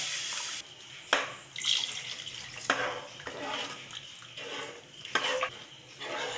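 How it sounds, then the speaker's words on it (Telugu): Semolina and water stirred in a pan for pineapple rava kesari, a quiet wet scraping that repeats in uneven strokes about once a second over faint background noise. "ఇది ఉండలు కట్టకుండా బాగా కలుపుకోవాలి."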